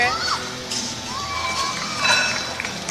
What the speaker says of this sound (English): you can hear his daughter on the crowd rooting for her